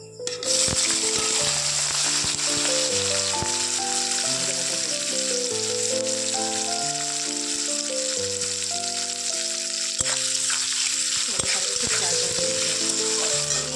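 Onion, garlic and fresh chili go into hot oil already holding dried red chili and cumin seeds, producing a loud, continuous sizzle that lasts the whole time, with music playing underneath.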